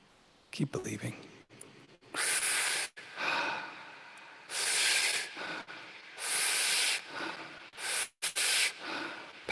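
Heavy, forceful breathing in a guided breathwork session: long rushing inhales and exhales repeat close and loud, with short pauses between breaths.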